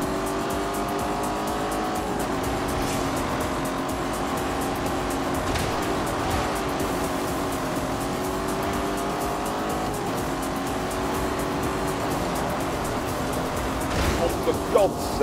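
A Lamborghini Urus drives fast in The Grand Tour Game. Its engine holds a steady, loud drone with shifting pitch, and brief tire noise joins near the end.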